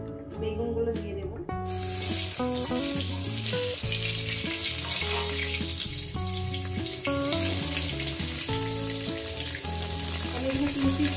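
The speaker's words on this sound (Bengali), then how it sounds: "বেগুনগুলো আমি ভেজে নেব" Eggplant pieces hit hot oil and set off a sudden, continuous bubbling sizzle that carries on beneath background music.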